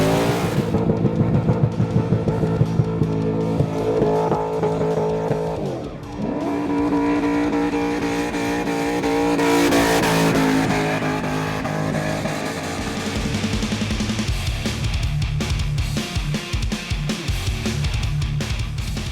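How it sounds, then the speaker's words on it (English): An LS V8 engine revs hard and bounces off the rev limiter in rapid stuttering bursts, loud and close, with a brief dip in the middle before the harsh pulsing returns. "There was no LS limiter bashing,"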